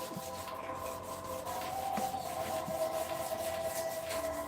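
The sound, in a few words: sanding by hand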